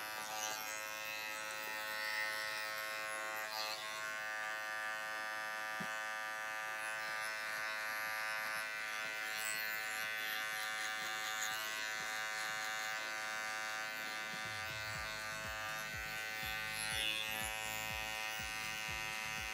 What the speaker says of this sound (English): I trimmed all the way. Trimmers.